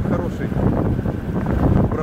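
The outboard motor of a Sea Fisher 610 catamaran runs steadily at an easy cruising pace, a dense rumble blended with strong wind buffeting and water noise.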